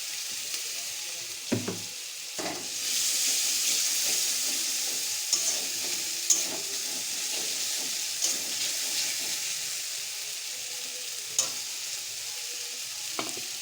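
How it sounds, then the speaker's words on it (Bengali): A loud, steady hiss of sizzling and steam from a hot pan, with occasional knocks and scrapes of stirring over it. "অল্প একটু জল দিয়ে দেব।"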